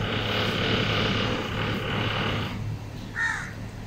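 A lone crow caws once near the end, somewhat distant, from a neighboring building's car park, over a steady wash of background noise.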